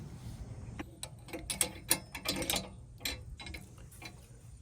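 Security bolt being threaded into a 1Up bike rack receiver, heard as a close run of small metallic clicks and ticks of uneven rhythm over a quiet background.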